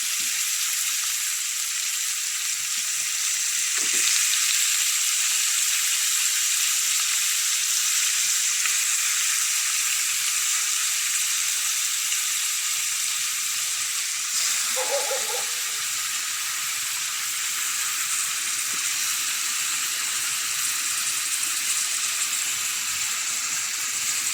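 Chicken gizzards fry in a hot pan, a steady loud hiss of sizzling oil throughout, broken by a couple of brief clinks of a utensil against the pan.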